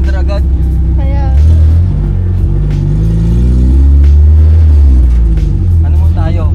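A Tamiya owner-type jeep fitted with a Mitsubishi 4G63 DOHC engine is being test-driven through its gears. It gives a loud, close, steady engine rumble that rises and falls, with someone talking over it.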